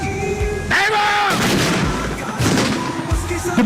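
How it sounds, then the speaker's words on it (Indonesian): A 105 mm Howitzer cannon firing during a military demonstration, with several heavy booms and rumbling blasts, loud and close, over a steady outdoor background hum. "demonstrasi penembakan meriam Howitzer 105"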